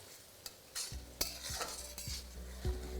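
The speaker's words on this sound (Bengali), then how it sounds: "আর তারপর এটাকে ততক্ষণ ভাজবো যতক্ষণ এটা একদম লাল লাল হয়ে ভাজা হয়ে যাচ্ছে" Onions fry in oil for a potato and pointed gourd curry: a soft, fairly faint sizzle with several sharp clinks and scrapes of a spoon stirring against the pan, and no speech.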